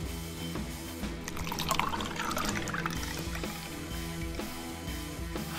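Kirin Ichiban beer pours into a mug, a soft, steady liquid gurgle and trickle that is fairly quiet. It runs continuously for several seconds with low room hum beneath and no talk.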